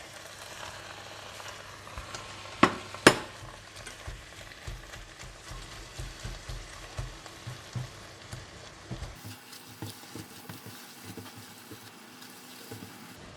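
Choy sum and egg stir-fried in a pan: a steady close sizzle with two sharp knocks early on, then rhythmic scraping stirs that carry on until the heat quietens.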